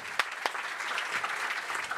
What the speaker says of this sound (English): We give Petra a big applause